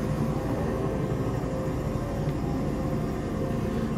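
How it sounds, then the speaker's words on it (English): Steady, rumbling engine drone from a helicopter flying in Cyberpunk 2077, constant and fairly loud, with no breaks. "What's up with the helicopter?"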